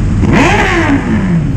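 A Ducati motorcycle engine revs hard in a single loud, close burst. The pitch swells up and then falls back, with a steady rumble running underneath.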